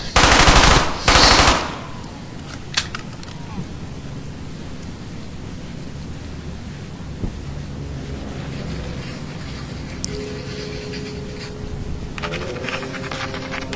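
Gunfire in the World War II shooter Brothers in Arms: Hell's Highway: a loud opening burst of automatic fire, then a steady rumbling battle ambience with faint distant shots and clatter, no talking.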